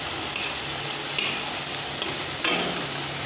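Potato slices fry in a small batch in a pan of hot oil, a loud continuous sizzle punctuated by a few sharp clicks and scrapes as they are stirred.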